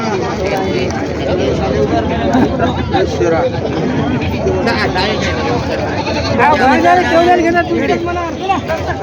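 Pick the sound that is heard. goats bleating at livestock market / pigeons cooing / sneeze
goats bleating at livestock market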